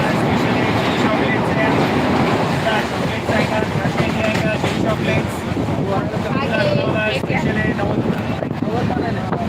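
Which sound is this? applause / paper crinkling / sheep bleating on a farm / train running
train running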